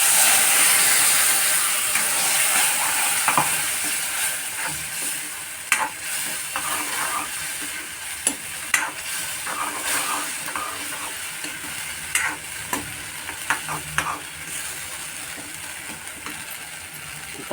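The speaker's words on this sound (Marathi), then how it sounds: "हे बघा कैरी आपली तेलावर फोडणीवर बरोबर वाफली चांगली." Raw mango and ground paste fry in an oil tempering, a steady loud sizzle broken by sharp clinks and scrapes of a stirring spoon against the pan.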